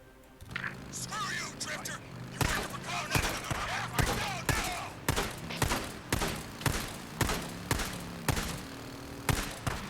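Gunfire in the video game Days Gone: a steady series of sharp, loud shots repeating roughly every half second, close and punchy over a low game ambience, with someone talking underneath.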